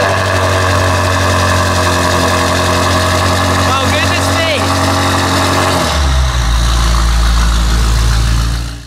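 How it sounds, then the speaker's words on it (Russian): A loud Manhart-tuned BMW M5 engine idles roughly and steadily on a cold start, then its pitch drops into a deeper, rumbling idle; speech is faintly mixed in. "холодный пуск мы сделали, но звук был просто невероятный"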